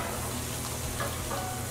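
Filet mignon jerky frying in olive oil in a pan, a soft, steady sizzle with faint crackles and a light stirring scrape, heard on its own with no voices.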